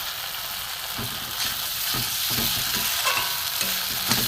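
Cabbage paneer masala fries in a pan, giving a dense continuous sizzle with soft spatula strokes stirring and pressing the mixture now and then, close and steady.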